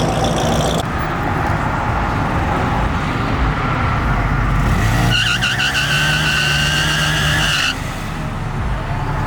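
A Grom motorcycle doing a tire burnout on a street at night, a steady loud rasping screech that swells midway and holds for a few seconds over low engine rumble and traffic, then drops away.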